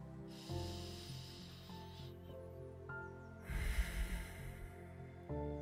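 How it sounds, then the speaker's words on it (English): Deep breaths drawn by a speaker and audience at a 2022 talk: two long, airy hissing inhales or exhales, each lasting over a second, rise over soft sustained background music. "Take a nice deep breath"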